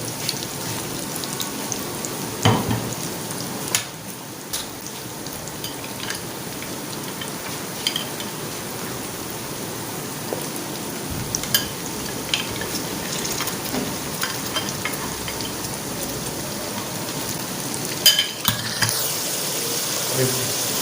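Boiled mutton fries and sizzles with onions in a pan, a continuous crackling hiss broken by occasional scrapes and clatters of stirring, with no talking.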